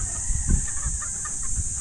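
Chickens clucking in short, scattered bursts close by on a calamansi farm, with a steady high-pitched insect-like whine running underneath.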